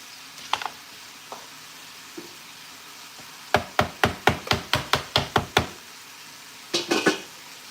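A dull knife chopping minced pork tenderloin on a board: a few scattered knocks, then a quick run of about ten evenly spaced, crisp chops close by, and a final short flurry.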